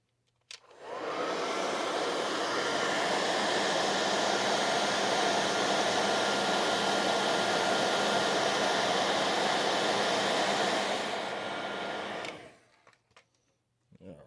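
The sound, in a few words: hot air gun shrinking heat shrink tubing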